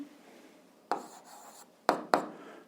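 A pen scratches out an algebra equation for an eighth-grade exercise in close, quiet strokes, with three sharp taps as the pen meets the surface and no voice heard.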